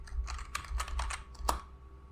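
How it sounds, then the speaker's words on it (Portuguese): A password typed on a computer keyboard during a Windows Server 2025 setup: a quick, irregular run of about a dozen close, crisp key clicks, with one sharper tap near the end. "Vou digitar aqui uma senha."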